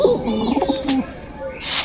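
Pigeons coo inside a pigeon loft, a close, soft run of rolling coos and a few brief calls, with someone speaking faintly in the background.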